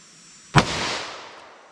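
A single sharp, loud gunshot from a .327 Federal Magnum handgun, followed by a short decaying outdoor echo, with no voices.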